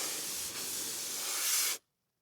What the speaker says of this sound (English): Let me throw that fire extinguisher sound into the echo track.